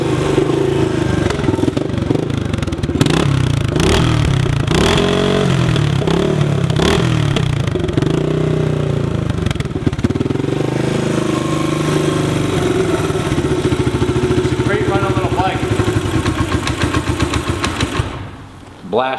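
A 1980 Kawasaki KLX250 motorcycle engine idles with a close, loud clattering putter, blipped through several sharp revs before settling and cutting off at the end.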